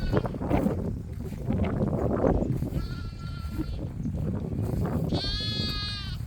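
Baby goats bleat on a pasture farm with a flock of sheep and a herd of goats, two high wavering cries at a moderate distance over a busy, noisy background.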